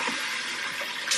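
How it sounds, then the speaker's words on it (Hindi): Water poured steadily into a yogurt and gram flour batter for kadhi in a home kitchen, a continuous close splashing stream with no talk. "और फिर इसमें डालेंगे काफ़ी सारा पानी"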